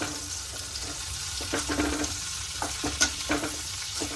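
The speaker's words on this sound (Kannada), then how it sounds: "ಈಗ ನಾವು ಕೊತ್ತಂಬರಿ ಮತ್ತು ಪುದೀನ ಹಾಕೊಂಡು ಫ್ರೈ ಮಾಡ್ತೀವಿ" Coriander and mint frying in oil in a pan, a steady broadband sizzle with intermittent stirring clatter and scrapes, close and fairly quiet, no voices.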